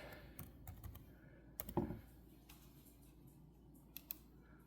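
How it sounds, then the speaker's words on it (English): Someone types a password on a computer keyboard, making faint, sparse clicks and taps with short pauses between keystrokes and one slightly louder clack, all very quiet and close. "I'm just going to type"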